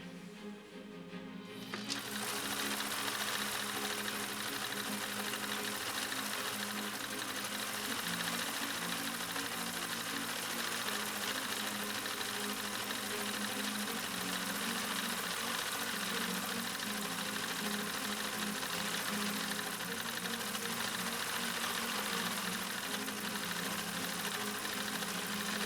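A Husqvarna Viking 2000 sewing machine stitches a yellow stitch through fabric, its motor running as a loud, steady, continuous hum with a faint rhythmic rattle that lasts the whole stretch after a brief quiet start.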